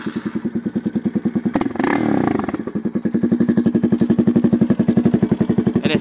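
A 2008 Yamaha Raptor 250 four-stroke ATV engine idles close by with a steady, rapid thumping pulse, briefly swelling and blipping in the middle before settling back to an even idle.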